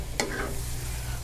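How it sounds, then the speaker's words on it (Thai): Squid pieces are stir-fried over high heat in a wok, a soft steady sizzle broken by one quick scraping stir of the spatula near the start, with no voices. "เราผัดด้วยไฟแรงเลยนะครับไฟแรงเลยผัดตรงนี้3นาทีครับ"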